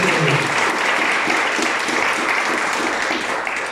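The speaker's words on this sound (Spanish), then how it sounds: "Denle el aplauso al Señor." A church congregation applauds, a dense continuous roar of many hands that holds steady at full volume from start to finish.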